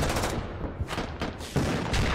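Armored vehicles fire TOW missiles at infantry in the Squad tactical shooter game, heard as a rapid burst of sharp, booming reports and crackling gunfire at moderate distance with no voices.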